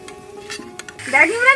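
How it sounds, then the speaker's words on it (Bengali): Banana chips frying in a pan of oil over a smoky home cooking stove, a soft sizzle and stirring clatter swelling in the second half under nearby voices. "কলার চিপসটা কি সুন্দর করে ভাজা হয়ে গেল"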